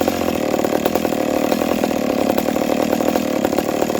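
A ported McCulloch Pro Mac 850 chainsaw idles steadily outdoors in -35C cold, its close, loud two-stroke engine running a continuous, even rattling burble with no revving and no voices.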